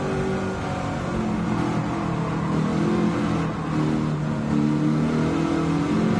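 Mustang Mach 1 with a swapped engine in Gran Turismo 7, a continuous mid-pitched engine drone revving steadily at close range with slight swells in intensity, no talking.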